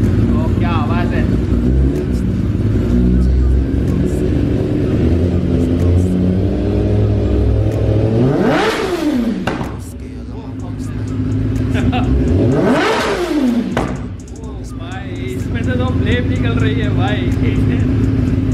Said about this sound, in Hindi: तो अभी आप लोग सुनोगे Z800 की आवाज़, फुल सिस्टम एक्रा।